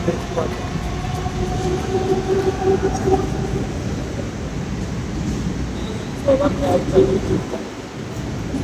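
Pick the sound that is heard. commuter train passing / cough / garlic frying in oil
commuter train passing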